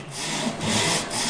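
A hand saw rips along the grain of a wooden workbench top, peeling the wood out. The strokes are close, steady and rasping, with brief dips between pushes and no talk.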